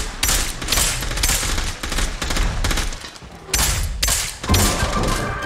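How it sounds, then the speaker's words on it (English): Gunfire in the video game Scavengers during a boss battle: dense, rapid automatic bursts and heavy shots rattling almost continuously, loud and close, with brief lulls between volleys. "I'm shooting them"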